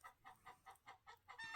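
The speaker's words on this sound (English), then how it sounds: "chickens are squawking." Chickens cluck and squawk in a quick, even run of about seven calls, faint and somewhat distant, with no talk over them.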